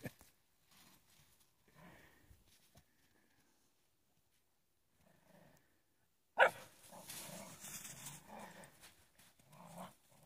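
Dogs, Great Pyrenees and cocker spaniels, bark and growl while playing, starting with scattered quieter barks and then a louder burst of barking and growling near the end.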